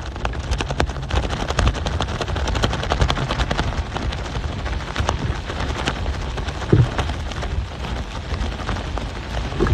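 Hard rain pelts a camera during a storm at the Haulover Inlet jetty in Bal Harbour, Miami, a dense irregular patter of close drop impacts over roaring wind and surf, with one sharper knock near the end.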